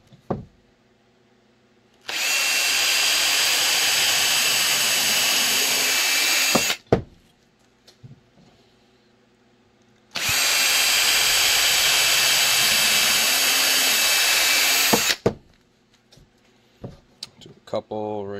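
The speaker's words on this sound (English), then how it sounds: "I don't want to drill holes everywhere, but I'm definitely going to put some right there underneath" A power drill whirs loudly in two long sustained bursts of about five seconds each, drilling holes in a mold, separated by quiet pauses with faint clicks and handling noises.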